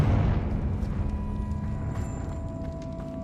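A Confringo fire spell explodes in Hogwarts Legacy: a loud, low rumbling blast at the start that slowly fades into a lingering roar, with no talking.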